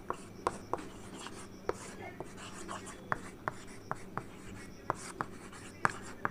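Pen scratching on paper during an English grammar lesson, with light strokes and sharp taps repeating steadily, close and fairly quiet, with no talk.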